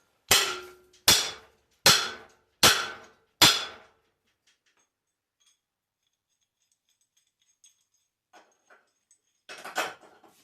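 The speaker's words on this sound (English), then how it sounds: "we're going to use this pipe hammer, pop that loose" Five sharp metallic pipe-hammer strikes knocking a part loose on a genset power distribution build, steady rhythm, close and loud, followed by quiet and a few faint knocks and a rattle near the end.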